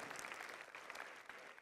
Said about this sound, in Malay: Tepuk tangan lah BKK buat ni.